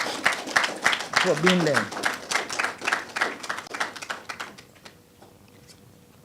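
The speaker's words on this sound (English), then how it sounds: "let us give them a round of applause for" Applause from an audience at a formal signing ceremony at a finance administrative centre: scattered, moderately loud clapping with a brief spoken phrase early on, thinning out and fading to quiet near the end.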